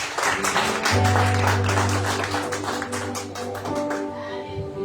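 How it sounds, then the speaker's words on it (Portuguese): Congregation clapping in praise at a women's church gathering, a loud, sustained patter of many hands with a steady tonal hum and sustained notes underneath. "As palmas que louvam o Senhor"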